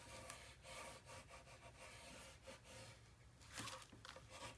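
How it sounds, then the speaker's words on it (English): Tape being burnished down onto a mini album page with steady rubbing strokes, a dry scraping rub that repeats close up with brief pauses and a few sharper swipes near the end. "Give it the good old burnish, get that tape down, get rid of my air pockets that I can see."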